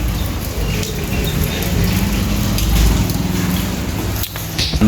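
Steady rain falling outdoors in the Philippines, a dense, even hiss of drops on surfaces held close and loud throughout, with no talking.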